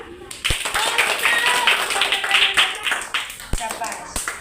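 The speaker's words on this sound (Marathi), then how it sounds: "तो तिने बरोबर ठेवलं की तुम्ही टाळ्या वाजवा." Children in a classroom shape lesson clap in scattered bursts of sharp hand slaps, close by, with a few louder single claps, mixed with lively talking.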